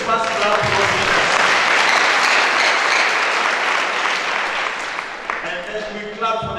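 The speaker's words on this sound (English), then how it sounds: "Let's first clap for the leaders." A lecture audience breaks into loud, dense applause for the leaders. It stays steady and sustained, then thins toward the end as a voice starts speaking over it.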